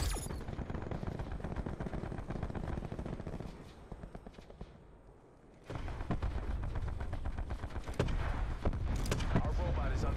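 Dense, continuous gunfire and automatic weapon bursts in a Black Ops 4 match on the Nuketown map, sustained and loud apart from a brief lull, with a voice speaking over the shooting.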